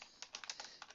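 Someone types quickly on a computer keyboard, making a fast, uneven patter of light clicks that sound close by. There is no talking.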